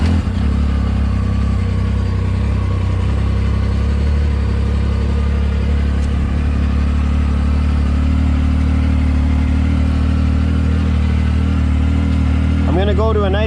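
A Yamaha YXZ side-by-side with a Silber turbo kit runs with a loud, close, steady low engine rumble that holds throughout without clear revs.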